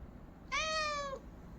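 A cat gives a single clear, fairly loud meow lasting under a second, with silence before and after.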